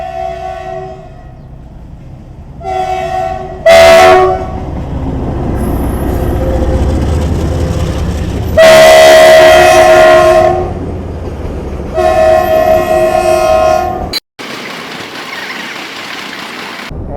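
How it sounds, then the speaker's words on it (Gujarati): A train rolls past a closed railway crossing on the Savarkundla to Jesar highway, loud and close, with repeated long horn blasts over the steady rumble and clatter of passing wagons. "અહીંયા થઈ ગયું છે ફાટક બંધ સો ગાઈઝ અહીંયા આવે છે ટ્રેન"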